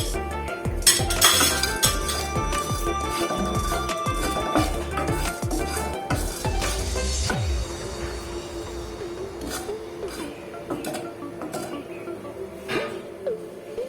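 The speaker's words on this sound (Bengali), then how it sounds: "এগুলোকে আমি শুকনো খোলায় সব ভেজে নেব।" Whole cardamom, cloves, peppercorns, mace and cinnamon dry-roasted in an empty pan, giving a steady run of light clinks, rattles and scraping stirs that thin out toward the end.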